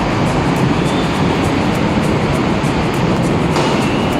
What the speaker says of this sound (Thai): รถไฟฟ้ามาพอดีครับ